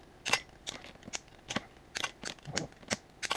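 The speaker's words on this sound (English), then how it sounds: "We'll just snip the backs of those" Wire cutters snip the wires off the backs of outlets in an old surge protector being scrapped for copper and aluminum: about eight sharp, close clicks at an irregular, unhurried pace.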